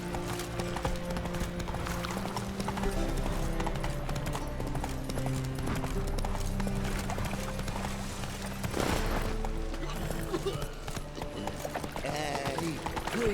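Roach, Geralt's horse in The Witcher 3: Wild Hunt, gallops with rapid rhythmic hoof clip-clops under a loud, dense game music and ambience bed, steady throughout.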